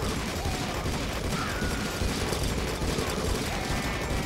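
Continuous dense gunfire from the Deeeer Simulator video game on Nintendo Switch, a steady loud barrage of rapid shots filling the whole stretch with no pauses.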